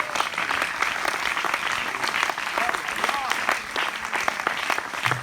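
A church congregation claps together during a Spanish-language sermon, a dense, lively burst of applause with scattered voices and cheers mixed in, sustained throughout.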